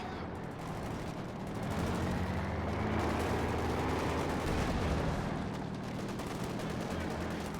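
Sniper rifle shots in a Company of Heroes 2 match, scattered among dense, continuous battle noise of other gunfire and explosions, with the sniper's cracks hard to single out in the thick wartime din.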